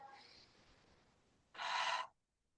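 During chair yoga, a person takes a big breath: faint breathy airflow at first, then a louder, sharp exhale for about half a second before silence.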